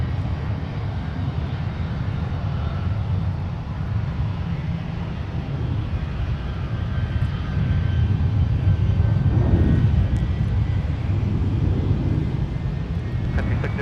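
A Boeing 757-300 jet roars at Minneapolis–Saint Paul airport, a broad steady engine rumble that swells slightly toward the middle, heard from a distance with no talk over it.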